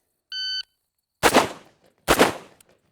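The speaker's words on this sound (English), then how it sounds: "He's got to put 1 round on each target." Two tactical rifle shots at targets during a timed qualification course: a shot timer's electronic beep, then two sharp, loud close-range reports less than a second apart, each ringing off briefly.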